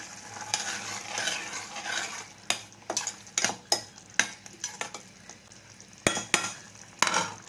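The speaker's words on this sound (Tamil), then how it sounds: "புளி சேர்த்ததுக்கப்புறமா நல்லா கொதிக்க விட்டுருங்க." A pot of bitter gourd curry with tamarind and coconut milk bubbles and sizzles on the stove while a utensil stirs it, with repeated sharp scrapes and taps against the pot over a soft simmering bed, close up and without talking.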